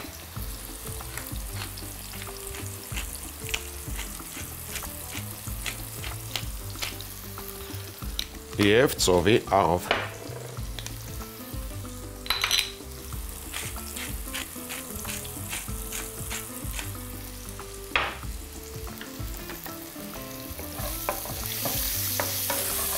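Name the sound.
zucchini frying in a pan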